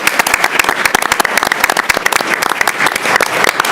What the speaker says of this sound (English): So one final round of applause for everybody